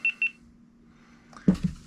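A GoPro camera switched on by its top button gives two short, bright electronic beeps close by, then a brief clunk of handling.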